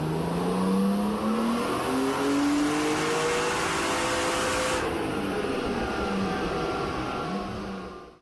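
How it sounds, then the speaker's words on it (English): Turbocharged, fully forged BMW E36 M50 engine making about 750 hp, revving hard on a dyno: a loud, continuous engine roar whose pitch climbs and sweeps through several pulls, with no talk over it. "this car was on the dyno, and it just pulled over 750 horsepower"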